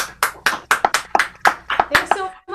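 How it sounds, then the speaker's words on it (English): Hand claps welcoming a performer on a livestream come in a quick, steady run of sharp, close claps from what sounds like a single person, mixed with a voice talking over them. "So how about we give her a nice round of applause and make her feel welcome?"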